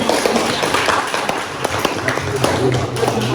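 A student group in a classroom gets a round of applause: irregular, moderately loud claps and taps scattered across a few seconds.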